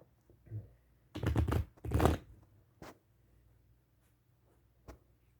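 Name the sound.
playing cards being shuffled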